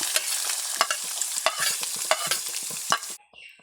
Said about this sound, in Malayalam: ആ എണ്ണയിലേക്ക് തന്നെ നമ്മൾ ചെറുതായി അരിഞ്ഞു വെച്ചിരിക്കുന്ന തേങ്ങാക്കൊത്ത് മൂപ്പിച്ചെടുക്കാം.